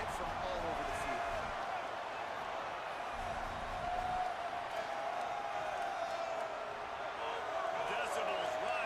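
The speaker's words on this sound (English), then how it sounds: "Decibels rising as the crowd gets behind this defense on third down" A stadium crowd roaring in the EA Sports College Football video game as the defense faces third down, a dense, steady rumble of cheering that rises slightly midway, with a commentator talking over it.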